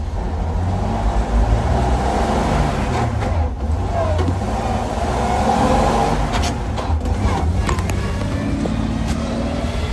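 A 1942 Dodge truck running while driving on the road, with a loud, steady low engine drone and rumble heard from inside the cab, a few light rattles and clicks over the top and no talking.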